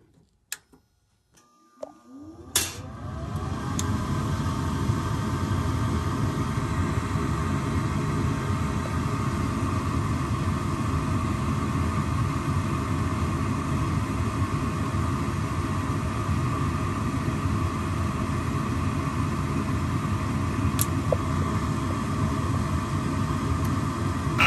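A gas furnace with its adjustment plate open starts up after a couple of sharp clicks, then settles into a steady, loud roar of burner and blower that runs evenly throughout.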